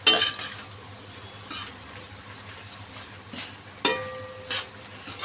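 A pan of pasta with two green chillies and curry leaves being stirred, with a few clinks and scrapes of a utensil against the metal spaced out over a low steady hum.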